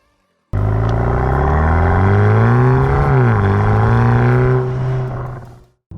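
A BMW M235i xDrive with an automatic gearbox drives along, its engine giving a loud, steady harmonic drone that rises and dips in pitch mid-run before fading near the end.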